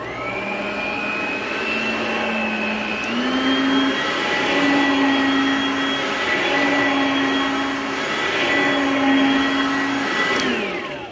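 An old upright Kenmore vacuum cleaner runs steadily with a loud motor whine, its worn belt squealing in a high, shifting tone that steps up in pitch a couple of times before the machine winds down.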